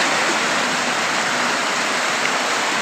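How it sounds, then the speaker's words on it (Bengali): Steady, dense rain pours down continuously at close range during an afternoon fishing outing, a uniform hiss with no pauses and no voices. "বৃষ্টি হচ্ছে"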